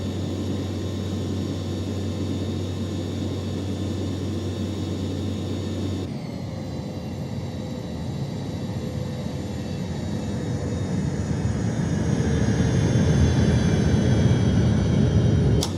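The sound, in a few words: Cessna Citation 525 jet engine climbing, X-Plane 12 video game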